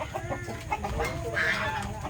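Large chickens cluck and chatter close by in a busy, continuous stream in Zambales, Philippines, with some higher squawks mixed in over steady outdoor background noise.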